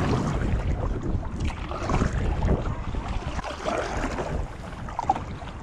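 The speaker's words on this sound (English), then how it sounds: "Now I don't know if I can actually keep up with this wind." Strong wind buffets the microphone while a solo canoe is paddled on a lake, a dense continuous roar with gusting swells and some water and hull noise, no talking.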